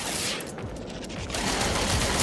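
Rapid weapon fire aimed at a robot in the video game No Man's Sky: a dense, continuous burst of shots that swells louder toward the end, with no voices.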